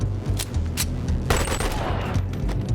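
Gunshots fired at enemies in the video game BONELAB, several sharp separate shots followed by a louder burst, close and punchy over steady game noise.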